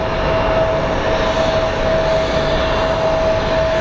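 Steady, loud roar of an airliner engine painted in the Jojo the Grizzly Bear livery at Phoenix Sky Harbor International Airport, a continuous broadband rumble with a sustained tonal whine running through it, no voices.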